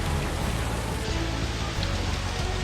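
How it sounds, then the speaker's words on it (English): Heavy rain pours down during severe flooding across villages, a dense, steady hiss of water that stays loud and unbroken throughout, with no voices. "Rain lashed hundreds of villages, washing away homes and leaving residents stranded."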